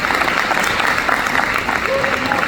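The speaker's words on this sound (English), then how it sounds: "a round of applause for Max Henry" Audience applauding for Max Henry, a dense continuous patter of clapping from a crowd, with a faint voice briefly audible beneath it.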